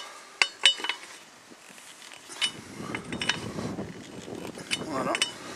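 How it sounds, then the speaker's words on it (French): Wheel studs on a Renault Scénic 2 hand-tightened in a cross pattern with a wrench, with a few sharp metallic clinks early, then softer ratcheting and tool clicks close by, with a voice speaking intermittently. "je vais venir serrer manuellement tous les goujons"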